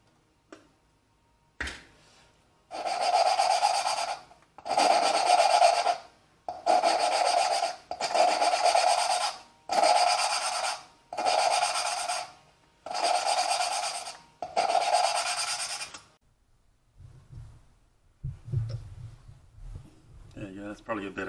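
Valves are hand-lapped in a Holden 253 4.2L cylinder head, a close, rhythmic gritty rubbing in about nine regular bursts separated by short pauses, ending in a few quieter handling noises.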